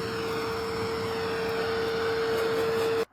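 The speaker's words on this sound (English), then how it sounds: "Now we're going to try out the vacuum part, see if we can clean this mess up." Vacuum from a YikTOL pet grooming kit running steadily with a constant whine and airy rush, close and loud for about three seconds, then cutting off abruptly.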